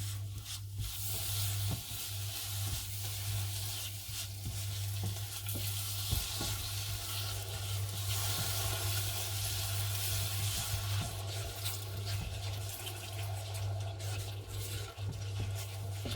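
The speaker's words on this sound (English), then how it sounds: "So the sugar is now dissolving into the molten butter, and I'm keeping it moving in the pan." Sugar stirred into molten butter in a pan for a banoffee pie gives a long, steady hiss and bubble with soft scraping strokes. A low hum runs underneath the whole time.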